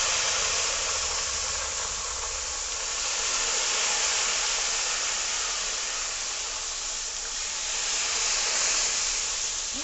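Turmeric salt water hits hot oil where banana chips are frying, giving a loud, continuous steamy hiss and sputter that swells and eases gently across the stretch, with no voices.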